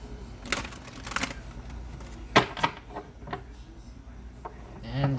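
Tarot cards are hand-shuffled at close range as soft crisp riffles and taps in a quiet room. A few clustered bursts and a sharper double clack come midway, and a voice murmurs faintly near the end.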